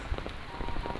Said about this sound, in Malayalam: രാവിലെ അതിൻ്റെ തുടർച്ചയായിട്ട് പെയ്യുന്ന ചെറിയ ചാറ്റൽ മഴ